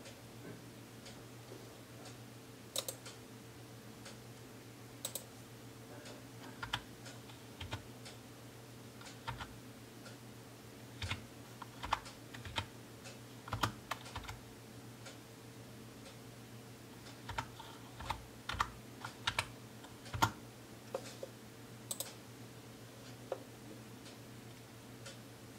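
Someone types on a computer keyboard, a string of sharp, irregular key clicks close by, some in quick bursts and others spaced apart, over a steady low hum with no speech.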